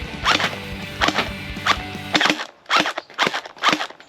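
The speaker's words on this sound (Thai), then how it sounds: "เดี๋ยวเราจะทดสอบดาเมจอยู่ที่สังกะสีก่อนนะครับ" A gel blaster toy gun fires repeatedly at a zinc sheet, giving seven sharp cracks at an uneven pace. The first hits land with a metallic ring, and the later shots sound drier and more clipped.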